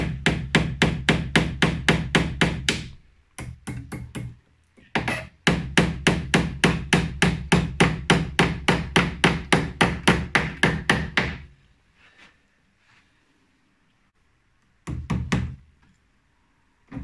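Tacks hammered into wood to join one piece to another, delivering long fast runs of sharp, evenly spaced close blows in two bursts, followed by a pause and a brief final flurry.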